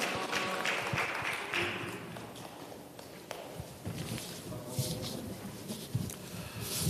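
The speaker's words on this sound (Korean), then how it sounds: "큰 박수로 맞이해 주시기 바랍니다." Audience applause welcoming the chair of the Seoul district mayors' council at a policy forum, a steady wash of many hands clapping in a large hall, moderately distant, with a few sharper claps.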